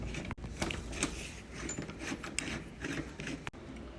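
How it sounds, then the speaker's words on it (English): Screws being backed out of a deadbolt on a door during a Kwikset Halo electronic deadbolt replacement, with continuous close rasping and scraping metal-on-wood turning sounds and a few sharp clicks, no talking. "Let's remove the deadbolt. Two more screws."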